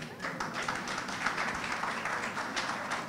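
A conference audience claps in a scattered, moderate round of applause, heard from within the hall with a dense patter of hands.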